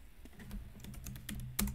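Computer keyboard keys tapped in a quick, uneven burst while entering a name into accounting software, close and clear with no talking.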